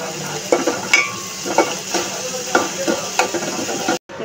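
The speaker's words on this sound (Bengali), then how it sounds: "লাউয়ের জন্য মশলাটা কষিয়ে নিচ্ছি" Shrimp and spices fry in a pan for a bottle gourd curry, giving a continuous sizzle with repeated clinking stirs of a utensil against the pan and a brief cut near the end.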